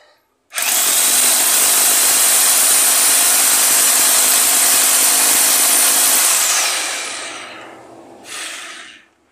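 A Teeno rotary hammer drill runs loud and continuous for about six seconds, boring with a harsh, steady grinding whine. A shorter burst follows after a brief pause.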